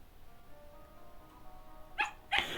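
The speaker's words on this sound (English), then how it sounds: "A dog reminded us of its existence with a loud bark." A dog in the horror video game Tiny Bunny gives two loud, sharp barks close together near the end, breaking a quiet stretch of low ambient tone.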